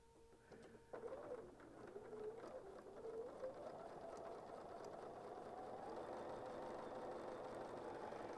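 A sewing machine stitches quilt triangles together with a quarter-inch foot, starting with a few hesitant bursts, then settling into a steady, quiet mechanical whir that climbs gradually in speed and pitch.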